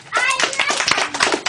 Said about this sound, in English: So give the red one a clap.